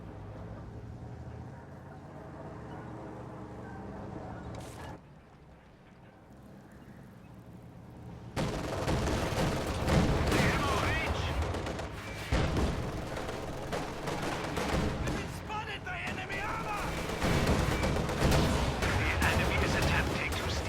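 Video game battle in which an armored car's autocannon and an anti-tank gun fire on a T-70 tank, with booming cannon shots and rattling bursts over a loud, dense combat din after a quieter opening stretch.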